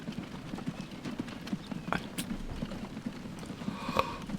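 Horse hooves clip-clop in the train-building game Transport Fever 2, a steady run of light rhythmic clops over a dense, busy background, with one sharp brighter tap near the end.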